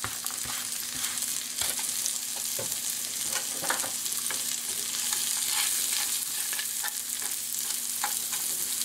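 Eggs frying in a pan with green onions, mushrooms and crushed corn chips, a steady sizzle with scattered crackles and occasional stirring scrapes, close and even throughout.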